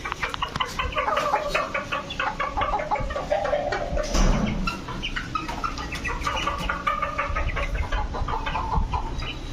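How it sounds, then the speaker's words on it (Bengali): Farm hens on a rooftop clucking and chattering continuously, several birds close together with a brief louder flurry midway. "এদিকে আছে আমার ফার্মি মুরগি"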